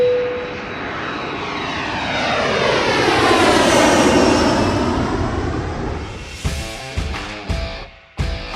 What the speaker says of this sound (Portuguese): Então, hora da gente entrar no avião para a nossa volta final.